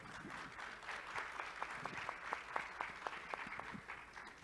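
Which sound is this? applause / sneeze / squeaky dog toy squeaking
applause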